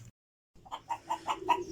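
Free-range local hens in a backyard flock with roosters give a run of close, rhythmic clucks, about five evenly spaced calls after a short silence, with no talking.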